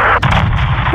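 A big gun firing in the Modern Warfare 2 campaign, one abrupt, loud, close blast that cuts into a dense, rumbling din of combat noise.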